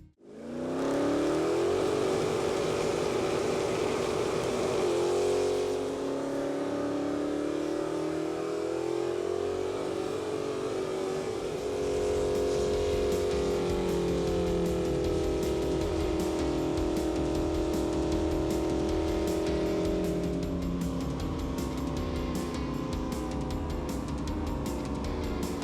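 A powerful hot rod engine runs loud and close, revving up in rising sweeps and settling back, with a sustained throaty roar that continues steadily throughout.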